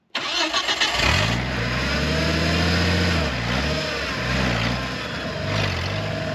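A Ford Bronco engine roars and revs hard under load while climbing an off-road slope, loud and sustained with rising and falling pitch and no talk.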